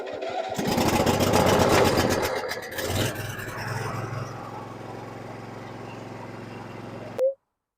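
A used riding lawn tractor engine cranks and catches, a loud rough rumble for a couple of seconds that settles into a steady idle, then cuts off abruptly with a brief thump.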